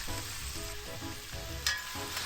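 Burst cherry tomatoes with garlic, olive oil and white wine sizzle in a pot over fairly high heat, a close, steady crackling fry with soft bubbling and occasional stirring.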